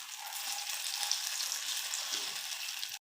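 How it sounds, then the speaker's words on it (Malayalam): Snacks frying in leftover oil from making parippu vada, a steady dense sizzle and crackle holding evenly for about three seconds before cutting off abruptly, with no voices. "ആ പരിപ്പട ഉണ്ടാക്കിയ എണ്ണയ്ക്കകത്ത് ബാക്കിക്കകത്താണ് ഉണ്ടാക്കുന്നത് കേട്ടോ."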